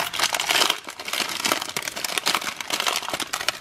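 Close, continuous crinkling and crackling of the plastic wrapper on a frozen plant-based beefy nacho burrito as it is opened, busy and uneven with no voices.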